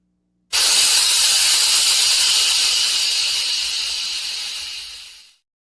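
A loud, steady steam hiss with a sizzling edge starts abruptly, holds strong, then fades and cuts off after about five seconds, heard alone.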